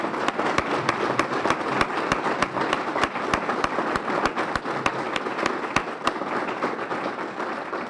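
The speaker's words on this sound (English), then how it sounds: "How about you stand up so we can clap for you?" An audience claps for young people from a community center at a grant ceremony, with sharp individual claps standing out over a steady, moderately loud wash of applause.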